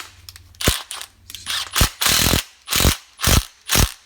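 Ratchet torquing bolts on a Stihl MS180 chainsaw during a bearing and seal repair, several loud, close clicking bursts in an irregular rhythm with short pauses between pulls.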